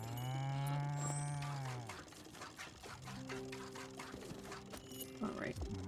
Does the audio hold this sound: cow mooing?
yes